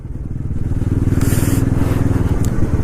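A motorcycle pulls away under throttle on a ride from Valparai to Pollachi. Its engine drones loud and close with a steady, pulsing throb that holds for the whole stretch, and a brief airy hiss cuts in partway through.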